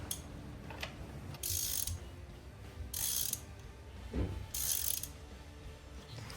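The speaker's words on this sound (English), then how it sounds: "Now take your ratchet. Get your spark plug out." A hand ratchet works on a car's spark plug during a tune-up, giving short bursts of clicking spaced a second or two apart, quiet and close with no talk.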